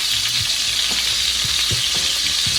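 A salmon fillet sears in a hot pan with a loud, continuous sizzle and occasional soft taps and stirring sounds.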